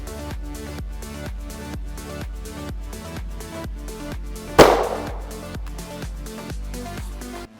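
A 9mm Black Hills 115-grain Tac-XP hollow point is fired into denim-covered ballistic gel: one sharp, loud gunshot crack midway, set over steady rhythmic background music.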